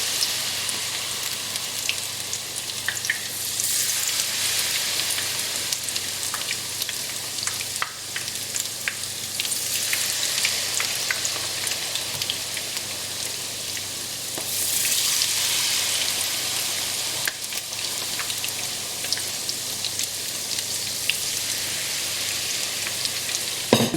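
Chillies coated in a light tempura-like batter fry in a pan over medium heat for Bangladeshi telebhaja, giving a dense, continuous crackling sizzle with bursts of popping that swell and ease over a long stretch, with no voices.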